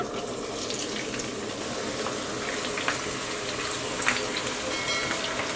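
Chopped onions browning in hot oil with bay leaf and whole garam masala spices, a steady close sizzle with crackling pops throughout.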